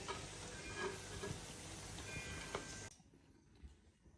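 Alu vadi, colocasia rolls, deep-fry in oil with a steady, dense crackling sizzle that cuts off abruptly after about three seconds, leaving near silence.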